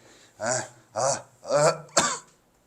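Four separate coughs in a row in a classroom, evenly spaced, close and fairly loud, with quiet in between.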